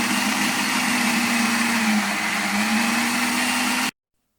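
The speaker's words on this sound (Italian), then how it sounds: "aggiungo il latte e con la lama vado a frullarle" An immersion blender blade whirs steadily as it purees cooled boiled potatoes with milk, a loud continuous motor drone with a low hum that holds for about four seconds and then cuts off abruptly.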